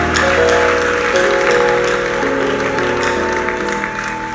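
A church congregation applauds and cheers in praise, steady loud clapping and crowd noise filling the space throughout, with a sustained tonal musical drone underneath.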